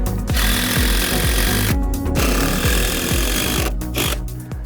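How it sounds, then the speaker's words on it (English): An Evolution power saw with an all-purpose blade cuts through Brazilian walnut hardwood decking, a loud, continuous saw whine with rhythmic strokes and two short pauses between cuts. "this is the new Evolution saw with the new blade that's designed to cut everything without changing your blade"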